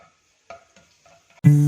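Crushed garlic drops into hot oil in a pan, first a few faint taps, then a sudden loud sizzle bursting up at the end.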